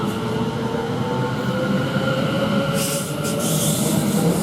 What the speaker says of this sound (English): Now the London Liverpool Street to Braintree, which is 1324, is now just departing.